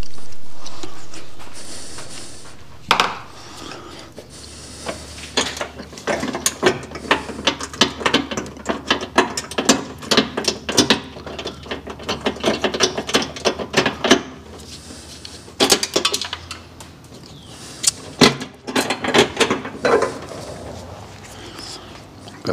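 A ratchet wrench bolts down a fuel pressure regulator during a Holley Sniper 2 install on a 1976 Trans Am, giving close, rapid bursts of clicking strokes in uneven runs over low background hum.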